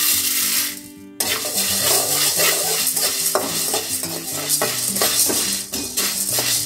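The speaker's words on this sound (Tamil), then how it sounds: "இப்போ குருமிளகு லைட்டாக வறுத்தா போகுது" Black peppercorns dry roasting in a pan for curry leaf podi, a steady dry rattle and scrape of stirring with frequent ticks and pops, close and loud, after a brief quieter moment at the start.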